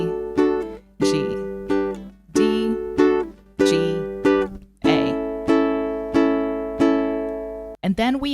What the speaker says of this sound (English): These chords with just a down strum will be like this.